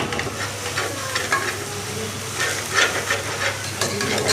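Ginger garlic paste sautés in a pan with a steady hiss and sizzle, while a utensil scrapes and stirs through it now and then, up close.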